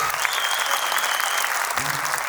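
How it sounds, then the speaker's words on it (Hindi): An audience gives strong applause for the singer Harsh after a song, with dense continuous clapping throughout and a faint tonal sound rising briefly under it. "दिलથી जोरदार तालियों થવી જોઈએ हर्ष માટે"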